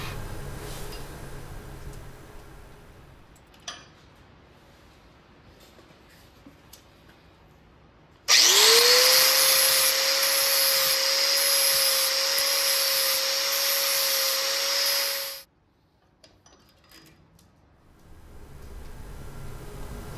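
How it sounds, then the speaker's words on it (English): Grinder working down an oversized weld on a patched chain link in a workshop, a loud steady high-pitched whine that spins up abruptly, holds for about seven seconds and winds down, with quieter shop noise before and after. "It's a little big, so I can grind it up"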